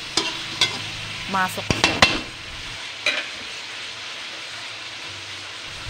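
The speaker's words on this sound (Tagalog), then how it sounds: "Hayaan lang natin siya sa kawali" Pork bistek frying in a pan, a low steady sizzle beneath several sharp utensil clinks and scrapes, close up, with a brief spoken remark.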